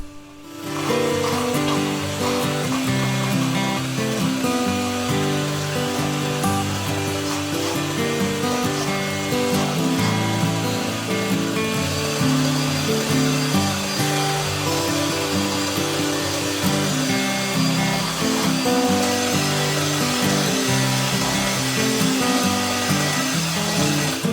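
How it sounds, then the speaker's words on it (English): Electric hand mixer beating sugar, vegetable oil, vanilla and eggs for dishpan cookie dough, a loud steady motor whine running continuously and close for over twenty seconds, with no talking. "And I'm going to take my hand mixer, and get that all incorporated."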